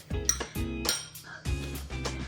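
A spoon clinks against the side of a bowl while stirring diet-friendly pancake batter, giving sharp repeated knocks in an uneven rhythm, close and fairly clear with no talking.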